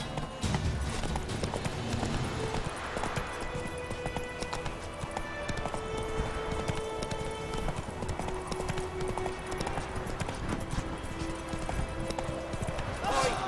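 Horse hooves gallop in a steady clip-clop rhythm throughout a Witcher 3 game scene, mixed with continuous game sounds and occasional speech, at a fairly loud, constant level.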